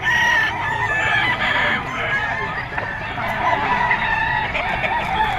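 Young gamecock stags at a busy Friday pet market in Bocaue, Bulacan crow and cluck loudly and close by, several birds overlapping in continuous calls throughout.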